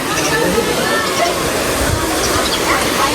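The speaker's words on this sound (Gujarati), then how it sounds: "કેવું મસ્ત પાણી આવે છે." Water flows steadily at a temple site, Galdhara Khodiyar, as a loud, continuous rushing that stays constant throughout.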